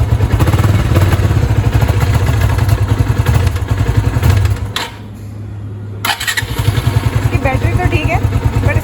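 A personal motorcycle engine running loud and close with a rough, rapid throb, briefly cutting out for about a second before restarting and continuing; a voice talks over it.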